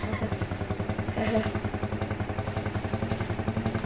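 Vintage Ursus C360 tractor engine simulated in Farming Simulator 22, a steady, close, rhythmic low diesel chug with regular pulsing and a brief swell in the middle, running alone throughout.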